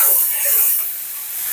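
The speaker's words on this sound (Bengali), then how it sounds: "মশলা কষানো শেষ, দিয়ে দিলাম তরকারি, দিয়ে এখন কষিয়ে নেব।" Vegetables dropped into a pan of fried spice paste give off a loud, steady steamy sizzle, a bright hiss that swells and eases slightly over a short stretch.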